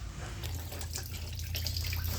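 Engine coolant draining from a 2001 Honda Odyssey 3.5 into a bucket, a steady close trickle and splash of liquid that continues unbroken throughout, with no voices over it.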